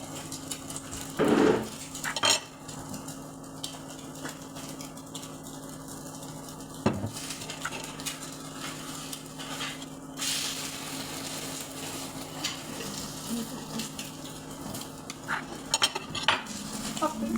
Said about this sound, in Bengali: আমি চামচ দিয়ে মিলাই নিচ্ছি